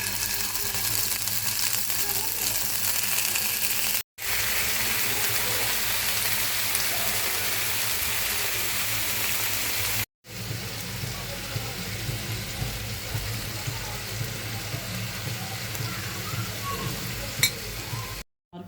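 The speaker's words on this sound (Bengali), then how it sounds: "এখন আমি ভাজবো। এখন আমি অল্প পরিমাণে সরিষার তেল দিয়ে দিব।" Chicken shashlik sticks frying in mustard oil, giving a steady, loud, close sizzle that runs continuously with only two brief breaks, and little else heard over it.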